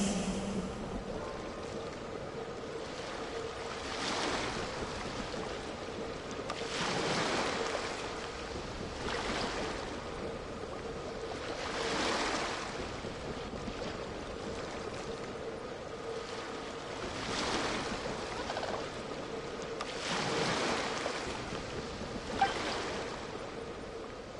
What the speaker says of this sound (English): Go to where you can hear the sound of the waves.